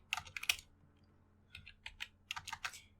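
Fast typing on a computer keyboard while coding in Python, bursts of crisp close key clicks separated by short pauses, with no talking.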